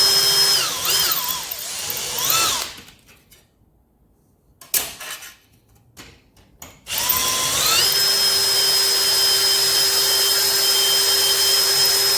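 A power drill spins up with a steady high whine and a pitch that bends as it loads, boring into an RC helicopter with cheap bits, stopping briefly for quiet clicks before running continuously again.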